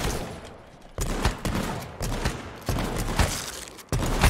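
Gunfire in an online battle royale video game comes as a series of sharp, loud shot bursts repeating at roughly half-second to one-second intervals.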